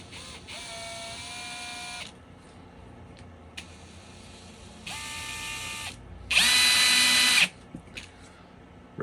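A power drill whirs in several bursts, drilling a hole in metal for a rifle Picatinny rail, motor revving up and down with pauses between, the last run loudest and highest-pitched.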